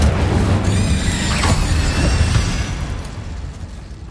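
An Incendio fire spell cast in Hogwarts Legacy erupts in a loud, dense whoosh and roar of flame with crackling bursts, holding steady before slowly fading away.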